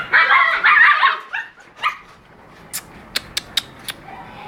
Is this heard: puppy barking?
yes